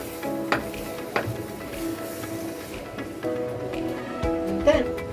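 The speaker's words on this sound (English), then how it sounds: "Stir my rice. You can hear the sound from the bottom." Beef pilau rice sizzling against the bottom of a pot as it is stirred, a moderate crackling hiss with a few scraping knocks, while someone speaks over it.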